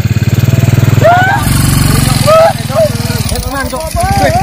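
A motorcycle engine chugs in a fast, steady pulse close by, loud and rough like an idle, briefly pausing and revving, while several people talk and exclaim over it.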